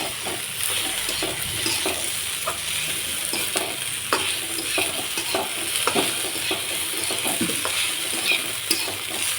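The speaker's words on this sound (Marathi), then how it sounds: "नुसती जिरी मोहरीची फोडणी द्यायची आणि तेलात परतून घ्यायची" Okra fries and is stirred in hot oil in a pan after a cumin and mustard seed tempering, with a continuous loud sizzle and intermittent scraping stirs close by.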